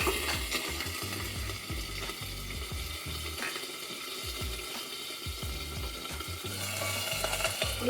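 Curry leaves and garlic frying in hot oil in a pan for tomato rasam, giving a steady close sizzle and crackle with faint scraping, with no one talking.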